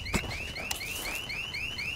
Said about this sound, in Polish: Mogę ten alarm rozdupczyć?